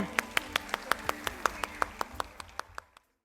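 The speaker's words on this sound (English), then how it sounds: "let's give another round of applause for them" Rhythmic, evenly spaced claps, about sixteen of them, from an audience at a school fest honouring dance performers, fairly faint and ending abruptly, with a voice faintly underneath.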